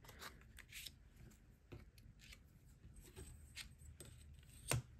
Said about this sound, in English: We need to cut this shorter so it's not blocking the...